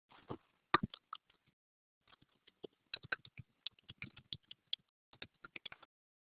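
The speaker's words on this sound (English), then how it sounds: "A couple people are typing." Typing on a computer keyboard, close crisp clicks in irregular bursts and pauses against near silence, no speech.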